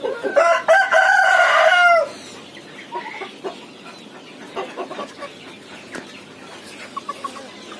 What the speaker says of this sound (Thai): ชุดนี้ ก็เริ่มขันแล้วครับ